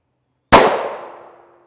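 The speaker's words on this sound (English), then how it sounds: "We'll start off with the Glock with the 4-inch barrel" A single 9mm shot from a Glock pistol with a 4-inch barrel striking a USA-made ballistic helmet, a sharp loud metallic crack that rings and decays over about a second, alone.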